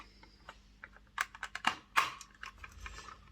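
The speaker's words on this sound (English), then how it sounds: "Put this over. And it should click into place." A part on a Hornby Class 47 model locomotive is pressed into place, giving a quick cluster of small close plastic clicks over about a second, with no talking.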